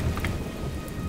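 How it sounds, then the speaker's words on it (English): Steady rain pours through a thunderstorm, with a low rolling rumble of thunder underneath and a few brighter hiss bursts near the start; continuous and fairly close, with no voices. "Looks like a storm's coming, guys."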